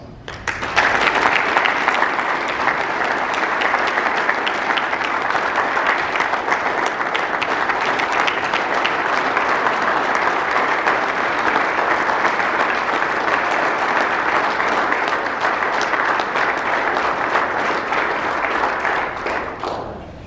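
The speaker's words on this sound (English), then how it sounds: "Please give him a big round of applause" Sustained audience applause welcoming the 2019 AEMP Technician of the Year winner, fleet technician John Kelchner, to the stage; steady dense clapping fills the room at a constant loud level for about twenty seconds before tapering off at the end.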